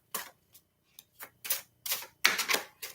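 Wide tarot cards are cut and handled by hand, giving a quick series of about eight short, close, papery snaps and taps with uneven gaps, the last few louder and more rustling, with no talk.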